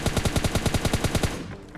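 Rapid automatic gunfire from PUBG Mobile Lite while killing an enemy, a fast even burst of about a dozen sharp shots over a second and a half, then fading out.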